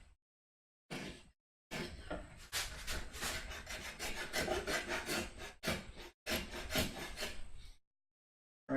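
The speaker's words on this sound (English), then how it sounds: "what I want to try and do here, if I can, is take a little bit of scraping of this glue" Scraper working dried glue off a wooden shadow box, bursts of close, dry rasping strokes separated by short silent pauses.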